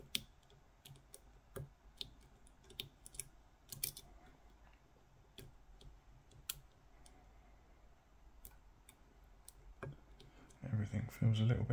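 Pick tool working the pins inside a Ruko mortice cylinder lock, soft scattered clicks and scrapes at close range, faint and irregular, with a brief louder rustle at the end.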